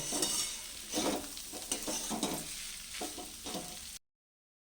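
Taro and onions fry and are stirred in a pan, with steady sizzling broken by several scraping stirs of a utensil, close and fairly loud, before cutting to silence near the end.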